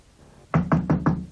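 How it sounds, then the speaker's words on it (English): Loud knocking on a door, four evenly spaced heavy knocks, close and clear against a quiet room. "Mr. Pickwick was suddenly awakened by a loud knocking on his door."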